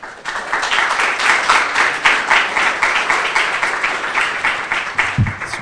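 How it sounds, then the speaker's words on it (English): A lecture audience at a chemical engineering talk claps for the speaker with dense, steady applause that fades slightly and ends in a low thump. "You don't need to clap for me."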